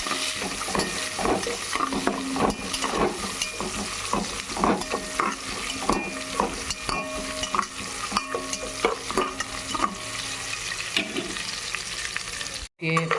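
Ingredients for gongura rice sizzling in a pan: a loud, continuous fry with repeated rhythmic scrapes and knocks of a stirring spoon against the pan, with no talking, before a brief cut near the end.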